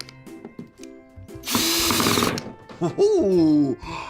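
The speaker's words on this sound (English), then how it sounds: "just out here on this beautiful day using power tools" A power drill whirs loudly for about a second, then stops; brief voice-like sounds and clatter come before and after.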